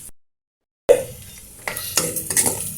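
Sautéed onion and garlic stirred in a pan, a few scraping clatters of a utensil against metal after a short silence, near and moderately loud over a soft sizzle.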